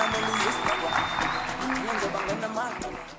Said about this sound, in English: Another big round of applause for your Rivo.